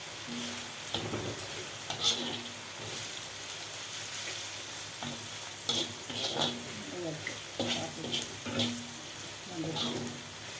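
Bitter gourd pieces sizzle and crackle in hot oil, a steady frying hiss broken by scattered pops and stirring clatter, close and moderately loud throughout.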